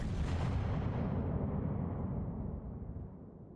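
Warship guns in World of Warships let out a heavy, booming salvo that rumbles low and slowly fades over a few seconds, with no talk over it.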